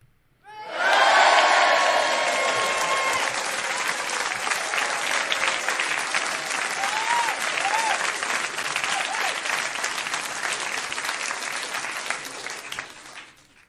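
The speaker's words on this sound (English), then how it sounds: "You deserve a round of applause." Round of applause from a crowd, loud, sustained clapping that starts abruptly, with a few cheers and whoops over it early on, holding steady for over ten seconds before cutting off.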